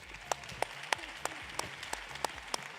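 Scattered, sparse clapping with distinct individual claps spaced out over a few seconds, like a small audience applauding lightly at a hair styling show main stage in Orlando.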